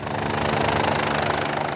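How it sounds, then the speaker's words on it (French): A rescue helicopter's engine and rotor roar loudly and continuously near a cliff, a dense pulsing drone with no talk. "L'hélicoptère doit maintenant récupérer en bas de la falaise les 2 copains"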